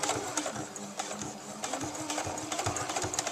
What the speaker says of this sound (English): I'm just going to start sewing really slow.